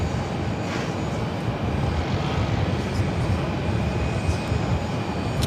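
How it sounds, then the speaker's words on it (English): A Southwest Airlines Boeing 737-800 arrives at Phoenix, its engines giving a steady broad roar that holds close and loud throughout, with no voices over it. "This is Southwest Airlines 3219 coming in from Birmingham on the 737-800."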